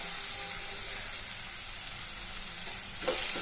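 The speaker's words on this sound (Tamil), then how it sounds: "மீதியை இதை லோ ஃப்ளேம்லேயே வச்சு வதக்கலாம்" Tomato kurma ingredients sautéing in a pan over a low flame give a steady, close hiss of frying, with a soft scrape of stirring and a slightly louder burst at the end.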